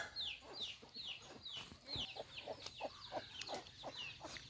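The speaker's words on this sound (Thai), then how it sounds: "พอเกลือไก่แล้วพี่น้องไก่ยังไม่หากิน" Chickens cluck busily in a rural farmyard in the early morning, a dense run of repeated close clucks and short calls overlapping one another, with no talk.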